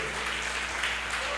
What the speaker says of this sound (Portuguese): Vamos aplaudir o Senhor Jesus pela vida dele.